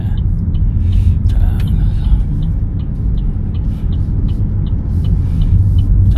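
A learner's car pulling away from a stop on a Pohang licence-test road course, with a steady close low engine rumble and road noise throughout and no voices.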